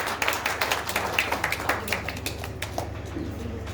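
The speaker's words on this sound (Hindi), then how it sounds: "जोरदार तालियां आपकी जारी रहनी चाहिए।" Audience at a poets' gathering and book launch in Jaynagar, Madhubani, giving a round of scattered, fairly distant clapping that thins out toward the end, with a faint low hum underneath.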